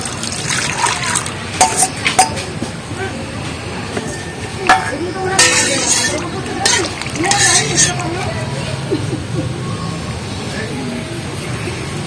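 Milk poured into a wok for a sabudana rasmalai, a light trickling and splashing stream that comes and goes in short surges, close by, with a voice talking over much of it.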